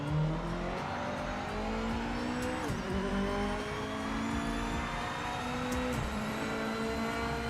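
A car in a racing video game drones with a constant engine note that shifts pitch as it revs, with tire squeal mixed in, loud and unbroken throughout.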